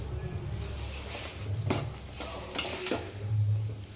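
Whole garam masala, bay leaf and dried chillies fry in a pan for chicken jhol, a soft close sizzle broken by scraping stirs and low clunks of a utensil, with no talking.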